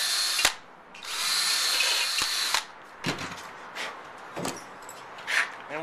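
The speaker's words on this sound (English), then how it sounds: "And then we'll just pre-drill it." Power drill pre-drilling a log for a rocking chair, one sustained whirring bore of about a second and a half, close and clear, followed by several short bursts and clicks of the drill.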